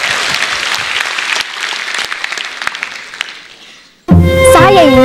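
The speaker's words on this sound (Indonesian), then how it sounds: "Berikan tepuk tangan untuk Sri." Studio audience at an Indonesian stand-up comedy show breaks into loud, dense applause that gradually thins and fades, then is cut off abruptly by a burst of bright musical jingle.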